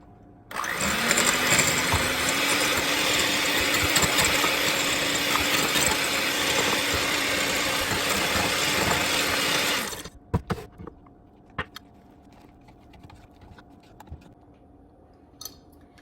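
An electric mixer whirs loud and steady for about ten seconds as it works flour into carnivore shortbread dough, then cuts off, leaving a few faint clicks and knocks.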